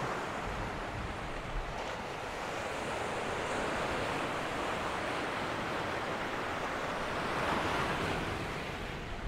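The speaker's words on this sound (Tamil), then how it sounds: "கடல் நல்ல ஆக்ரோஷமாக தான் இருக்குது." Rough, agitated sea surging against rocks along the coast at Trincomalee, Sri Lanka, a steady roar of broken surf with swells building and washing in, and wind blowing across the microphone, with no voices.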